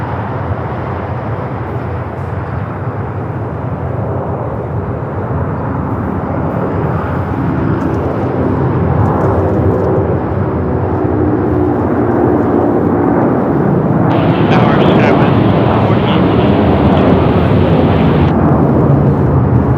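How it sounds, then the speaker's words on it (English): A Hawaiian Airlines Airbus A330-200 rolls for takeoff at LAX, a loud, continuous jet engine roar heard from a distance that swells and grows harsher as the aircraft accelerates. No talk. "Hawaiian A330 now rolling."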